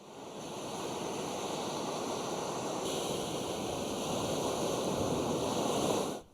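Sea waves wash against the Senegalese coast near a mosque, making a steady broadband roar of surf that holds at an even level for several seconds before cutting off abruptly, with no voices.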